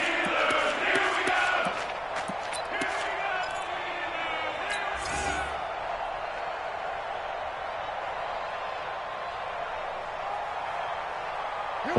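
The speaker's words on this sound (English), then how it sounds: "the crowd getting into it as we come up on a big third down" A stadium crowd roaring in an American football video game, a steady broad wash of cheering that is loudest at the start, with a sharp thump midway, and the crowd noise then holding at a constant level.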